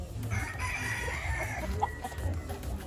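A Kelso broodcock rooster on a farm crows once in a long, strained call at moderate distance, with low farmyard rumble and a few faint clucks around it.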